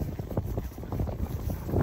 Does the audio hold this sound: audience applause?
no